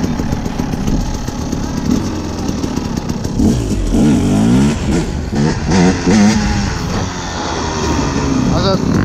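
Husaberg 300 dirt bike engine revving in bursts during wheelie practice, loud and close with uneven throttle blips, with a voice talking over it.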